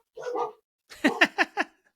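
Pet dogs in a home make a low grumbling yowl, then fire off a quick run of four sharp, fairly loud barks nearby, with no talking over them.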